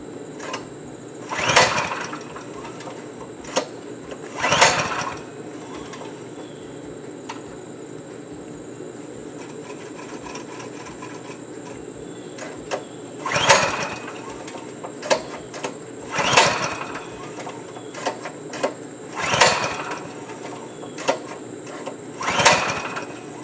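DR stump grinder engine running with the choke off, a steady close mechanical drone broken by repeated loud surges and bursts every few seconds.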